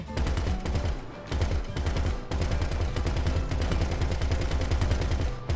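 Rapid bursts of automatic gunfire in the video game GTA V, with loud cracks repeating in fast rhythmic volleys and brief pauses between them, sustained over several seconds.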